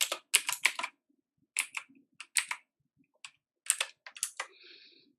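Computer keyboard typing code in short bursts of crisp key clicks separated by pauses, close and clear, with no speech.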